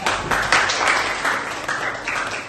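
Applause for a student group after their presentation in a classroom teaching practice session, a steady burst of many hands clapping that holds fairly loud for the whole stretch.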